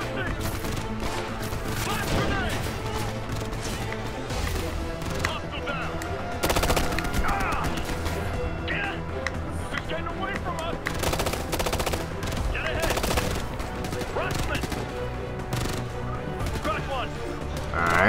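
Gunfire from the video game Ghost Recon: Future Soldier comes in repeated rapid bursts and single shots, loud and close. Crashes and chatter from players break in now and then.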